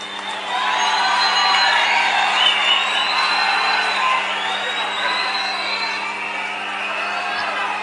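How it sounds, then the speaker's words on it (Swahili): A large crowd at the SGR launch event cheers and applauds for President Museveni, a dense, sustained roar of voices, whoops and clapping that swells early and holds loud for nearly eight seconds. "Wapi makofi ya mzee Yoweri Kaguta Museveni?"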